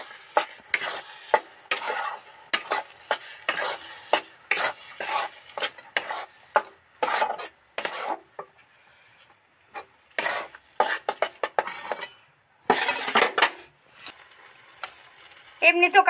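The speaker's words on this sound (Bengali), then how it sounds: "এবার নেড়ে চেড়ে মিশিয়ে দেব।" A spoon stirs grated green peas in a frying pan, making a run of close, irregular scrapes and clinks against the metal with brief pauses, while a faint sizzle runs underneath.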